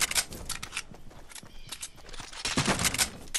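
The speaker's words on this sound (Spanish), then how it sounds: "Que me están disparando de espalda." Gunfire in the battle royale game Fortnite: a rapid series of sharp, fairly quiet shots in short clustered bursts, with a few footstep-like thumps between them.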